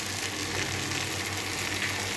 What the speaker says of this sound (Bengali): ঘি দিয়ে এটাকে ভালো করে নেড়ে চেড়ে একদম শুকিয়ে যাবে